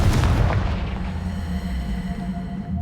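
A Confringo fire spell explodes against a pile of debris in Hogwarts Legacy. One close, heavy boom with a burst of crackle opens it, then a low rumble and a faint ringing tail die away.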